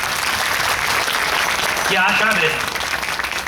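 Loud, dense audience clapping at a Hindi religious katha gathering on the Ramayana, sustained throughout, with a voice speaking over it partway through.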